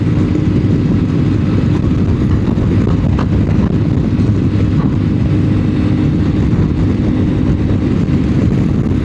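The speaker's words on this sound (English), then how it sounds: "A bit blowy, a bit of a crosswind, maybe a bit of sail on it. It's blowing me a bit." Crosswind roars over a rider on a CF Moto 450 MT motorcycle, loud steady low buffeting with the engine running underneath, no talk.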